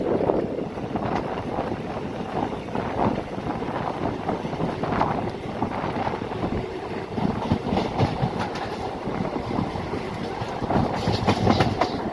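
An express train runs fast along the rails between Solapur and Pandharpur, India, wheels clattering rhythmically under a loud rushing roar and wind buffeting the microphone.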